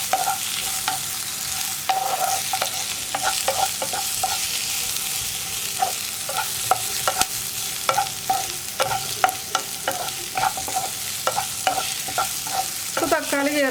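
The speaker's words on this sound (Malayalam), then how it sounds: "തക്കാളി ചേർത്തിട്ട് ഒരുപാട് വഴച്ചെടുത്ത് ചെറുതായിട്ടൊന്ന് വഴറ്റിയെടുക്കുക" Tomatoes sautéed and stirred in a hot pan for a tomato kuruma, with repeated sharp spoon scrapes and taps against the pan over a steady close sizzle.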